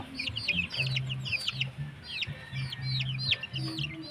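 Three hens and a rooster cluck in low repeated bursts while small birds chirp busily in the background, a lively farmyard mix without talk.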